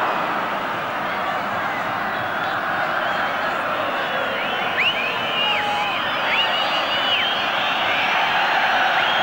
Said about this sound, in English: The whistles come up from the crowd.